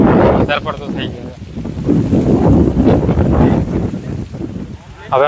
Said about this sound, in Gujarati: પવન આવે છે, તમે જોઈ રહ્યા છો.